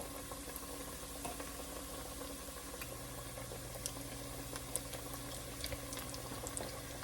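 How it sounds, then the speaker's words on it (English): Cauliflower nuggets frying in oil in a pan, a faint, steady crackling sizzle with scattered small pops throughout and a low background hum. "Let these fry a couple minutes on each side, and then I'm going to flip them."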